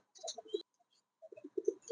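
A pair of young mini king pigeons coo softly at close range in two short bouts separated by a brief pause, with no talking.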